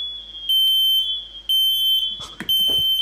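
A loud, piercing Nest Protect smoke alarm shrills in repeated bursts, with short gaps between them and a few brief knocks or thumps near the end.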